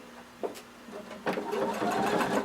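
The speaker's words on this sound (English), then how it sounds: "we're sewing through all layers using 3/8 of an inch seam allowance" A sewing machine stitches through all layers of fabric at a 3/8-inch seam allowance, starting with a short burst and then running steadily at close range while someone talks faintly.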